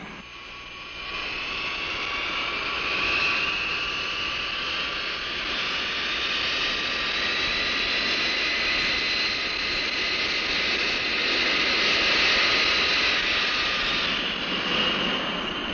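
Jet engines of air cargo aircraft at a large airport give a steady, continuous roar with a high whine, sustained and fairly loud throughout with no talking.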